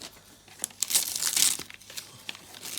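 Gift wrapping paper being torn off a present by hand, heard close up as a few quick crinkling rips and crumples over about three seconds.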